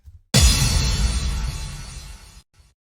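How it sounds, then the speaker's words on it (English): An impact sound effect from a TRON-style electronic beat: a sudden booming hit with a heavy low thump and bright wash that sustains and fades over about two seconds, then cuts off, standing alone. "An impact,"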